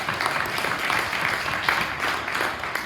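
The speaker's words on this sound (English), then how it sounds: "Clap it up for Tony." Applause for a youth football treasurer at a parent meeting, a modest group clapping steadily in rhythmic bursts, fairly close and continuous throughout.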